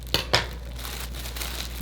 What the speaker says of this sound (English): This tape on this one, a little bit tricky here. Let me try the scissors.